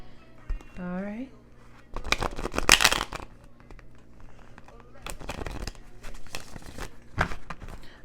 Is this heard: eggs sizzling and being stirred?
no